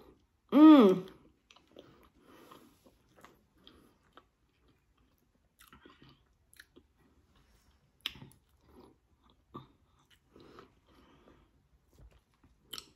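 One loud, sharp bite comes first. Faint, scattered sticky chewing of thick caramel follows, close and intimate during a sweets-eating challenge, with brief murmurs between the quiet chews.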